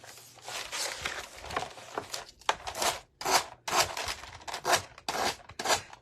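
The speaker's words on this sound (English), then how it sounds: "All I'm doing is sanding the edges." Repeated scratchy rasping strokes of sandpaper against the edges of a harlequin pumpkin, close up, in an uneven back-and-forth rhythm with brief pauses.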